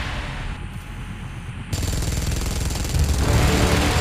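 In the BGMI video game, a weapon fires at Mechagodzilla in a loud, continuous rapid hammering burst that grows denser and heavier partway through, with no voices.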